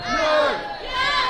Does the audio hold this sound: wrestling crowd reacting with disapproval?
yes